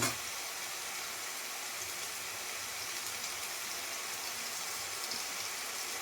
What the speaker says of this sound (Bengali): সব কিছু দিয়ে আমি ভালো করে এটা ভেজে নেব মশলাটা।